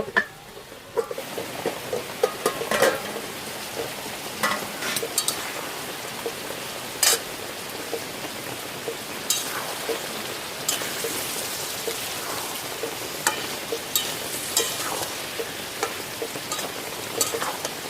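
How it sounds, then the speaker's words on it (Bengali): Desi chicken curry, red and spicy, sizzles in a karahi wok while a spoon scrapes and stirs it in irregular strokes, a constant crackling fry running underneath. "ভালো করে নেড়ে দিতে হবে, একটু কড়াই লেগে যাচ্ছে"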